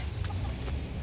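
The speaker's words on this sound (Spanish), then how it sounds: "Gallina buena esa." A hen gives a couple of short, soft clucks nearby over a low background hum.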